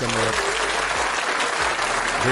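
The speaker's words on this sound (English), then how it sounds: "Let's give Lou a round of applause for that" Applause breaks out among a small group during a casual sports talk discussion, a steady dense wash of clapping filling the whole short moment with no pauses.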